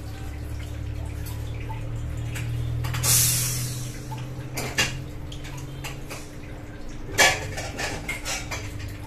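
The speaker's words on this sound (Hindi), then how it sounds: "देखिए इसको हम कुकर में डालते हैं" Metal cookware clatters and clinks in a home kitchen as chopped spinach greens are dropped into a pressure cooker, with a few sharp knocks of lid and pot standing out over a soft background hum.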